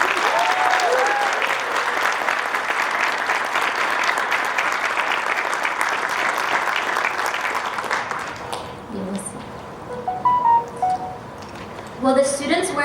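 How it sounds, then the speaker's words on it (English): Graduation ceremony audience applauding honors students, loud sustained clapping for about eight seconds that then fades into scattered claps, murmurs and a few voices. "Please give them a round of applause."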